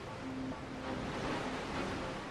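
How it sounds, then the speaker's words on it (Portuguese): Tidal bore of the Qiantang River in Hangzhou Bay, a wall of water rushing up the narrow river mouth, heard as a steady broad roar of churning water and wind, continuous and fairly loud with no talk. "uma parede gigantesca de água que se forma quando marés muito altas na baía forçam caminho invadindo a estreita foz do rio"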